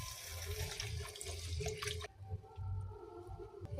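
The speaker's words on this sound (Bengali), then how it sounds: "এবারে জল দিয়ে দিব।" Water poured from a tap-like stream into a pan of spiced fish curry masala, a steady close splashing rush that cuts off about halfway, leaving softer trickling and low kitchen noise.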